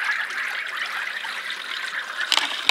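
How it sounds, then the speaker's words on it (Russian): Clean water poured in a village home, a steady trickling splash running throughout with a few sharper splashes near the end, no talking. "Вот я же вот только-только чистую воду наливаю"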